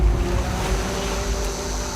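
Ocean waves and steady wind along an Icelandic coast, a continuous broad wash of surf with low rumbling wind noise on the microphone, fairly loud and close, with no voices.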